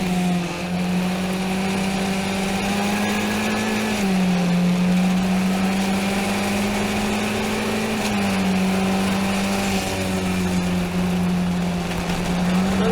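Open-wheel F1600 race cars running nose to tail through turn 4 at a race, a steady high engine drone with shifting pitch sustained throughout, loud and continuous.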